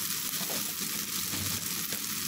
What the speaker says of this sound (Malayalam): നമ്മൾ ഉള്ളി ഇവിടെ നന്നായി വാടി വന്നിട്ടുണ്ട്.